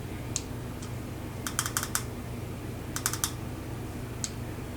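Sharp, quiet clicks from the buttons of a VapX Geyser vape mod, some single and some in quick groups of three or four, close to the microphone against a low background hum.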